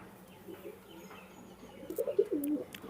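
A Kalanka pigeon gives a soft, close coo that swells into a louder rolling call toward the end, over faint background noise.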